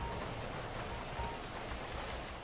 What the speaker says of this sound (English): Seems it is raining